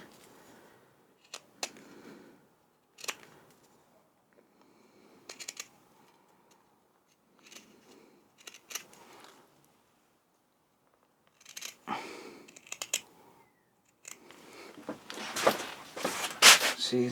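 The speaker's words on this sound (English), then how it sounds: "I'm actually cutting more onto the back of the handle" A hand saw cuts across the end grain of a wooden tripod handle in short, separate bursts of rasping strokes with pauses between them, close and fairly quiet at first, then a louder run of strokes toward the end.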